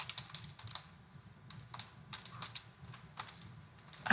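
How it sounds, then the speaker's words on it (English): Fingers tapping on a computer keyboard, a quiet, irregular patter of clicks at close range, with small bursts and pauses between keystrokes and no talk. "and then start typing."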